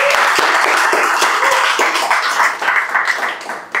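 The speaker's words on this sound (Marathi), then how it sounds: "सगळ्यांसाठी जोरदार टाळ्या आल्या पाहिजे" An audience at a stand-up comedy show applauding, dense loud clapping from many hands that slowly thins and fades over a few seconds.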